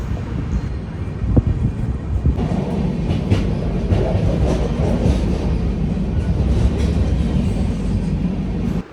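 A train at Anand railway station rumbles steadily and loudly throughout, with rolling wheel clatter and a sharp metallic knock near the start, close by with no speech over it.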